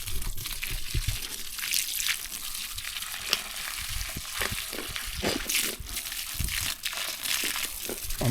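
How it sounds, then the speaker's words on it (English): Carrots in a garden being watered, heard as a steady spraying, trickling wash of water with crackling splashes on soil and leaves, running continuously and fairly close. "We're gonna start watering now. Start watering the carrots."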